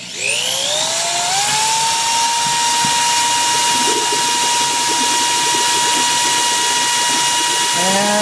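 An electric pump spins up and runs steadily, flushing oil through an OEM Subaru oil cooler and filters. It starts with a rising whine, then settles into a loud, close, continuous motor hum with a sharp tonal whine.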